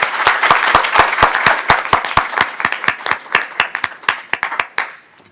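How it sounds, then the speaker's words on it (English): An audience claps for alumni panelists at a university event, a loud dense round of applause that thins into scattered separate claps and fades out near the end. "please join me in giving a round of applause to our amazing alumni panelists"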